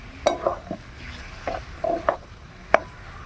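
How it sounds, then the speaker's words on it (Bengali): Yam curry with grated coconut being stirred in a pan, a few scraping and clinking strokes of a spoon against the pan with a soft sizzle in between, close and fairly quiet. "ভালো করে এগুলো মিশিয়ে নিয়ে নাবিয়ে নেব"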